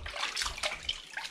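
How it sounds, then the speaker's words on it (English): Fresh running water splashes steadily over sausage skins as they are rinsed in a sink, a soft close trickle and slosh. "rinse the skins off"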